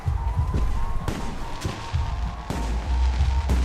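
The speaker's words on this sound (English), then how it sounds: "The noise from those fireworks should cover the sound of gunfire." Fireworks burst in the video game Alpha Protocol: four or five sharp, loud explosions spaced irregularly over a continuous low rumble and a faint steady tone.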